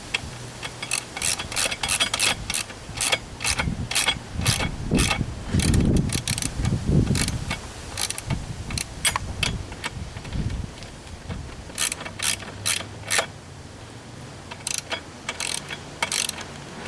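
Ratchet loosening 15 mm seat bolts on a GM/Chevy seat, working past old Loctite: rapid, repeated metallic clicking in bursts across the whole stretch, close and fairly loud, with some low mechanical thumps and handling noise in between.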